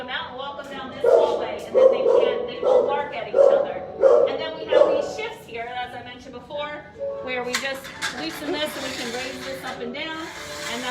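Dogs in an animal shelter's dog room bark in a rhythmic run of loud repeated barks, then keep yipping and barking more irregularly while a person talks nearby.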